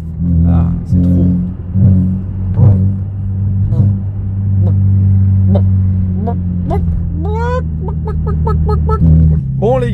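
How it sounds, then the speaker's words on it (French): A petrol car engine idles loud and close with a steady low rumble, while someone talks over it throughout. "Je suis vraiment content de cette voiture, juste le bruit, on va faire quelque chose hein, parce que là c'est trop."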